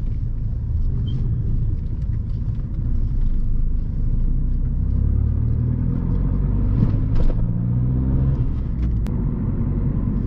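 A Peugeot 208 1.4 HDi diesel hatchback driving and turning in city streets, heard from inside as a steady low engine and road rumble with slight changes in engine note.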